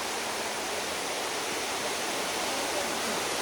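Thada Falls in Andhra Pradesh pours in a dense, continuous broadband roar, steady and loud with no breaks.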